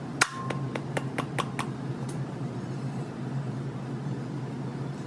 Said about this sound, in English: I'm going to use the hammer